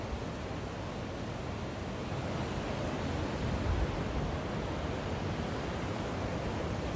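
Steady, broad wind roar outdoors on a big bridge in Wisconsin on a gusty day, continuous and fairly loud with no voices.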